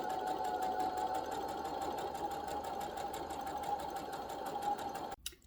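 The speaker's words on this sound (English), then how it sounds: "And continue to sew all the way down." A sewing machine runs a continuous straight stitch down the side of a cotton fabric tote bag, with a steady close mechanical whir and rapid needle rhythm that cuts off abruptly near the end.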